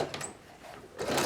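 A sewing machine stitching the sleeve of a plush toy's button-up shirt, with brief bursts of mechanical whirring separated by a short quieter pause.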